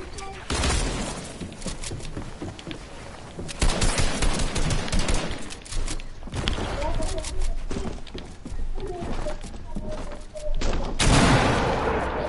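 Gunfire in a shooter video game: repeated rapid bursts of automatic fire and single shots cracking loudly across the whole stretch, with players talking over the action.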